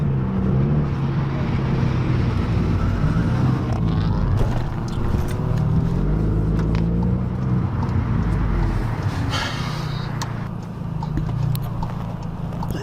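A tuned APR Stage 3 Volkswagen Golf GTI pulls hard at open throttle, its engine a steady, loud rumble that holds from start to finish with no voices over it.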